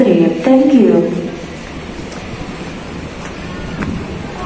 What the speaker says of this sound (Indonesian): saya paling belakang anginnya cukup kencang